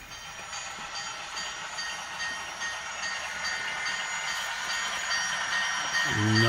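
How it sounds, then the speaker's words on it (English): A model Burlington Northern grain train pulled by three EMD locomotives rolls along a layout with a steady rising rumble and hiss that grows louder, plus a low tone entering near the end; no one talks. "the Burlington Northern rolls into the picture. Three big EMD units with a large grain train behind them."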